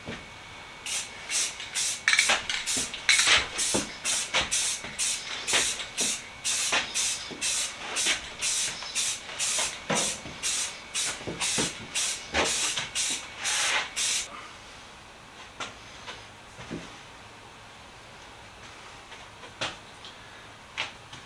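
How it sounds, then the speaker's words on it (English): An aerosol can of Rust-Oleum Heirloom White sprays paint onto a small fuel can in a rapid series of short, close hissing bursts, then stops, leaving quiet room tone with a few faint knocks. "We are going to go over a section of this with Heirloom White from Rust-Oleum."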